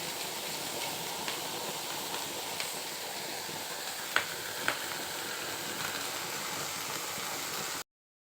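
Small freshwater shrimp dry-roast in a pan, a steady close sizzle and crackle with a few sharp pops and light stirring scrapes, no voices.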